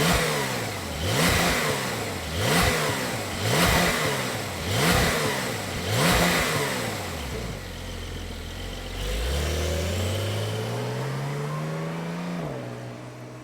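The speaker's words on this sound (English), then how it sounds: "fire it up and see what a stock base Porsche 911 exhaust, what kind of noise it makes" A stock 2020 Porsche 911 Carrera 992 fires up and its exhaust revs in a series of sharp, repeated blips, then settles and climbs in one long, smooth rev before dropping back, loud and close.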